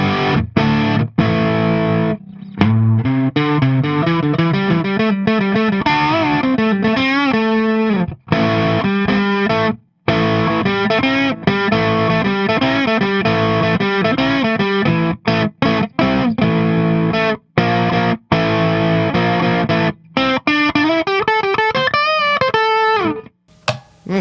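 Glarry Burning Fire electric guitar played through its middle single-coil pickup with heavy distortion, a busy, loud and close run of chords and lead lines with brief gaps between phrases.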